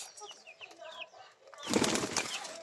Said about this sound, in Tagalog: Pag-aaway na yan sila mga kalapatids.